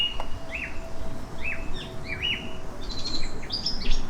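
Several birds in a park chirp and sing in quick, repeated phrases over a low background rumble, the calls growing brighter and busier toward the end.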